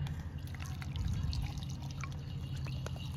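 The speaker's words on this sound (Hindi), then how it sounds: "इस स्ट्रेनर में हम डाल देंगे इमली का पानी जो हमने सोख होने के लिए रखा था।" Tamarind water soaked for golgappa pani poured into a strainer, a soft steady liquid trickle with faint drips, close and quiet with no talk.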